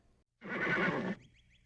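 A single loud, close horse neigh rings out for nearly a second, followed by faint high squeaky sounds, with no talking.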